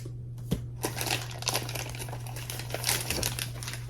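Plastic packaging around a knife sheath being cut and pulled open, a run of close crinkling and crackling with sharp snips and rustles under a low steady hum.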